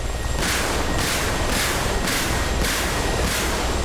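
Repeated heavy weapon fire from an Mi-24P attack helicopter in the DCS combat flight simulator, loud booming bursts recurring roughly every half second in a steady rhythm over continuous rotor and engine noise.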